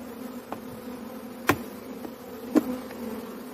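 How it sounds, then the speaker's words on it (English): A steady, low buzz of many dark honeybees at the hive hums throughout, close and continuous, with a couple of soft knocks against wood. "So these are much darker bees."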